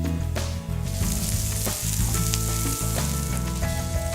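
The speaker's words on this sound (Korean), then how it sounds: "적당히 익은 불판 위에 고기 한 점 올려놓고 노릇노릇 맛있게 구워주면" Slices of Korean hanwoo beef sizzle and crackle steadily on a hot grill plate at a beef restaurant street, with a dense, continuous frying hiss from start to finish.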